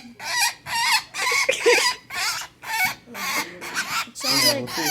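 A red-bellied woodpecker held in the hand during banding gives a rapid series of harsh, rolling calls, close and fairly loud, in short repeated bursts with brief gaps between them.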